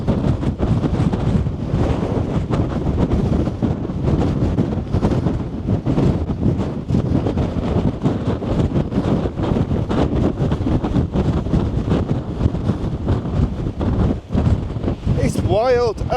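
Strong gusting wind buffets the microphone on an exposed hilltop camp, a loud continuous roar with rough bursts throughout and a brief higher squeal near the end.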